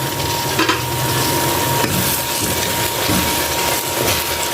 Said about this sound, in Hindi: अब चॉप की हुई प्याज हम ऐड कर देंगे। उसको अच्छी तरह मिक्स करेंगे।